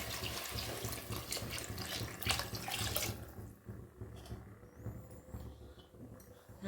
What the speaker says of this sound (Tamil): தண்ணி ஊற்றிக்குவோம்.